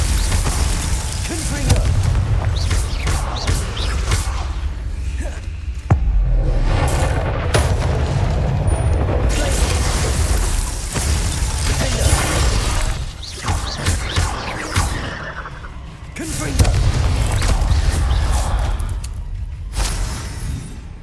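Spell explosions in the video game Hogwarts Legacy, a dense run of loud booms and crashing blasts, repeated over about twenty seconds with a voice shouting over them.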